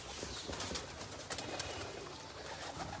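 Soft low cooing of teddy pigeons with pink-red eyes in a loft or sale pen, mixed with dense shuffling and rustling, close and steady over a short stretch without talk.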